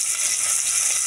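Cut onions fry in hot oil with cloves in a pan for a drumstick curry, giving a steady, bright sizzle heard close and alone.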